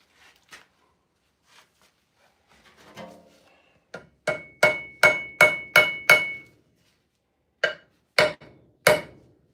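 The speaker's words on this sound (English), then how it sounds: "Hammer that wedge in there." A wedge being driven in with a hammer: a few faint taps, then a steady run of six sharp, ringing metallic strikes, a pause, and three more hard blows, close and loud with no talk.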